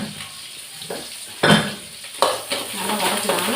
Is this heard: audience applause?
no